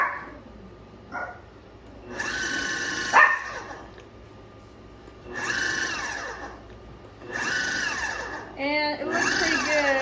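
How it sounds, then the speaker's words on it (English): Dogs bark in several loud bursts over a kitchen electronic device going off while pie crust is mixed, the barking clusters spaced a couple of seconds apart with quieter gaps and some mechanical whirring between. "They like to bark every time they hear an electronic device go off."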